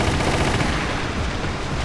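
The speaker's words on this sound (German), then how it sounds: "ich hab geschossen" Continuous, dense gunfire fills Resident Evil: The Umbrella Chronicles, loud and unbroken throughout, with shots blurring into one steady roar.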